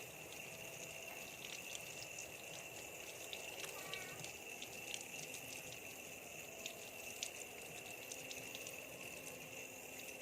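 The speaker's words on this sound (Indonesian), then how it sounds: "Setelah itu kita bersihkan dengan air mengalir." Hands are rinsed under running tap water, a steady faint hiss and splash throughout, with soft clinks and some low background noise.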